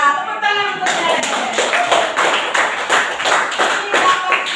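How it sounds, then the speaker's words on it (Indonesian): A classroom of students claps for a classmate in a brisk, loud burst of applause that keeps up for several seconds after a teacher's short spoken line. "Ya, tepuk tangan untuk Ellen."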